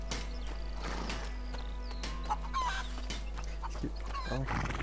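A horse in the video game A Plague Tale: Innocence, with hoof clops, snorts and a brief whinny over a steady low game hum, mixed with bird calls and honking.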